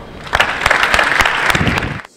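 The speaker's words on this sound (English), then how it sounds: "Round of applause." Conference audience applause, a dense burst of many hands clapping, loud and fairly close, then cutting off abruptly into quiet.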